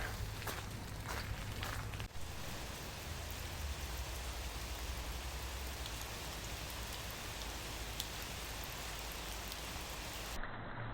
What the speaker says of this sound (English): walking through the forest with all the raindrops going down